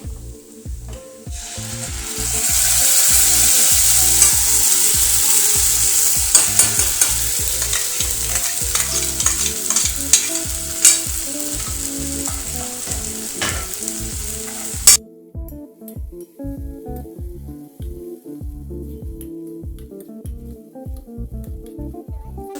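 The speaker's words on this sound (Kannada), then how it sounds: "ಈಗ ಇದು ರುಬ್ಬಿದ ಟೊಮೆಟೊ ಮಿಶ್ರಣವನ್ನು ಇದಕ್ಕೆ ಹಾಕ್ತೇನೆ." Ground tomato mixture hitting hot oil with browned onions in a pan, a loud steady sizzle with stirring scrapes for about fifteen seconds before the frying drops to a quieter bubbling.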